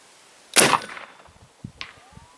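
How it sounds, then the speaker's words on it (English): A single sharp shot from an AirForce Texan .457 big-bore air rifle fired outdoors at a 200-yard target, a loud close crack with a short fading tail, followed by faint clicks and handling noises. "Here we go, shot number 1, 200 yards, AirForce Texan air rifle."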